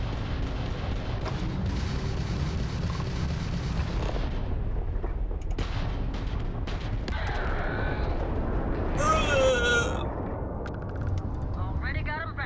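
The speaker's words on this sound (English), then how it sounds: "Firing missiles." Missiles launch from a spaceship in Starfield, a run of booming, crackling blasts under steady engine rumble with a voice talking, followed by electronic warning tones and chirps.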